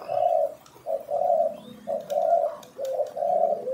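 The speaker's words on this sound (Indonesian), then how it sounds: "Cukup mudah sekali bukan untuk meloloh anakan burung." A young turtle dove chick of one to two weeks, being hand-fed, gives repeated soft, close cooing calls in short bursts with brief pauses between them.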